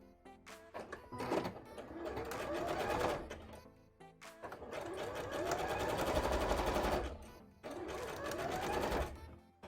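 Sewing machine stitching cosplay pumpkin shorts, three bursts of fast whirring runs that speed up and stop with short pauses between, close and clear.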